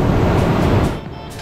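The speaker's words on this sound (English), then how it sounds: "The waves are a bit rough today" Rough monsoon-season sea waves surge at Patong Beach in Phuket, a loud, close, broad roar of surf mixed with wind noise that eases slightly toward the end.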